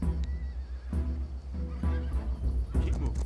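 A horse in the strategy video game Humankind whinnies once, short and fairly close, over background game sounds and some speech.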